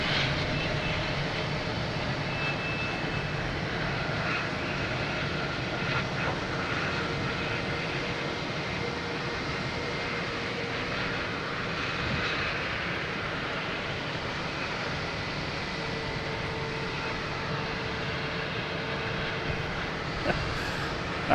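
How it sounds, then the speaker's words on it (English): A Delta Boeing 737-900 arriving from Orlando at Boston Logan Airport, heard as a fairly faint, steady engine drone with a distant whine, continuous and without talk. "next to arrive, we have Delta coming in from Orlando. 737-900."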